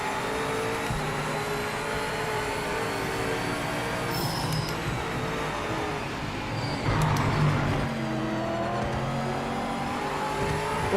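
Race car engine from the Project Motor Racing sim, a GTE car, drones steadily throughout at moderate level with shifting revs and a brief surge near the end; no talking.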